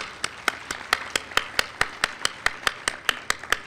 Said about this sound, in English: would you give yourselves a big round of applause?